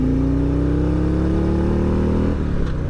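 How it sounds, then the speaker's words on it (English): A Milwaukee-Eight V-twin in a 2022 Harley-Davidson Road Glide Limited revs up steadily and loudly close by, its pitch climbing for about two seconds before it drops off sharply as the throttle closes. "let that Milwaukee 8 breathe."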